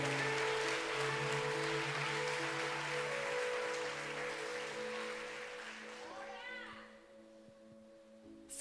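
A church congregation claps in a sustained, dense wash of applause over steady tones of background music, gradually thinning and fading toward the end.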